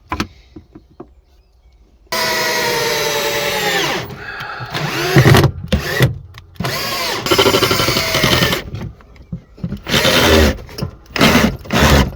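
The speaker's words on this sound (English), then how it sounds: "So I've got this bit of offcut that I will now screw in." A power drill drives screws through a wooden offcut into a campervan kitchen cupboard, starting after a quiet opening, then whirring in several bursts that rise and stop, close and loud, with no talk.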